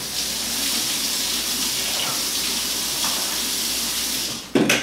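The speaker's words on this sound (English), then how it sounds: "I'm going to give it a rinse right now." Warm tap water runs steadily over a removed blender part during rinsing, a continuous hissing splash at close range that ends in a brief clatter.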